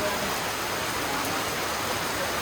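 Steady rain pours down in a dense, even hiss, close and constant throughout the short stretch with no voices over it.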